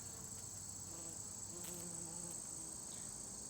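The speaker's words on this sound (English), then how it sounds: "we can see that the bumblebees are really loving it" Bumblebees buzz around fall flowers beside a fence, a faint low drone drifting in and out against a steady high insect whine.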